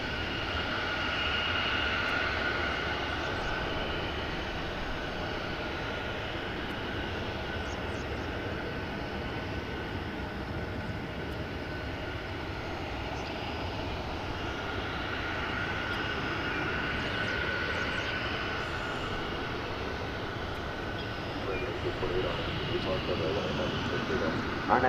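Airliner jet engines roar steadily at DFW airport, a broad, sustained drone that holds throughout at moderate distance, with air traffic radio chatter faintly underneath.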